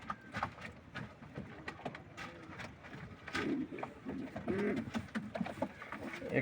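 Racing pigeons coo in low rolling bursts, quiet and close, mixed with soft taps and scrapes around them.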